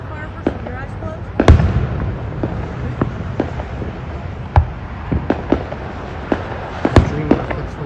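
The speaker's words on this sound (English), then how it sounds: "Brandon, are you enjoying the fireworks with your eyes closed" Outdoor fireworks display with sharp booming bursts scattered irregularly, several loud ones standing out over a continuous crowd murmur and rumble, with people talking throughout.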